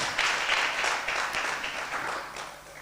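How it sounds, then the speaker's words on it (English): An audience applauds the Hope Givers Foundation Choir at a media launch, a steady wash of clapping that holds for about three seconds before tapering slightly, with no voices over it. "Hope Givers Foundation Choir, I think they deserve another round of applause."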